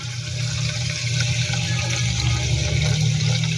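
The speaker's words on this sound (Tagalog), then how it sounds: "Lagyan natin siya ng tubig." Water pours steadily into a pot holding balut and penoy duck eggs ready for boiling, a continuous close rushing gush with a low gurgling undertone.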